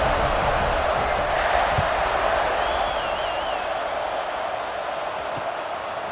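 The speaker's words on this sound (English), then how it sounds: "this crowd is buzzing after that last score." A stadium crowd in the EA Sports College Football 26 video game keeps up a steady, dense roar and murmur after a score, continuous and even throughout.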